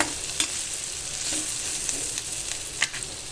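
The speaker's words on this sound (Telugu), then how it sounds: "ఉల్లిపాయలు కొంచెం ఎర్రగా వేగిపోయింది కదా" Onions sizzle steadily in a hot pan as they fry to a reddish brown, with occasional scraping stirs cutting through the constant crackle. No one speaks.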